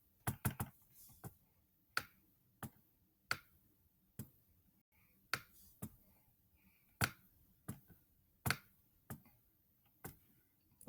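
Sharp, isolated trackpad clicks repeat at roughly regular intervals while airbrush-style blending is done on a computer, each tap crisp and close with near silence between.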